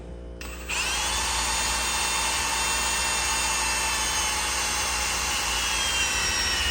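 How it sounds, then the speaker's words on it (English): A power drill bores a pilot hole for a jump seat and center console install in a 1999-2007 Ford Super Duty, spinning up after a brief quiet start into a loud, steady whine that runs without a break to the end. "we're going to go ahead and pop our pilot hole right here"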